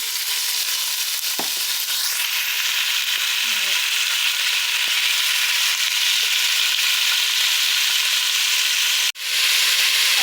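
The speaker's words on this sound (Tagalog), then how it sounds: "We add we just fried our meat just like that" Meat sizzles steadily in olive oil in a pan, a loud continuous frying hiss with occasional stirring scrapes and clicks, briefly cut near the end before the sizzle returns.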